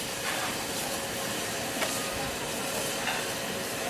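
Steam locomotive on the Keighley & Worth Valley heritage railway, heard from a distance as a steady broadband hiss and rumble with a faint tonal whine and occasional soft clanks, no talking.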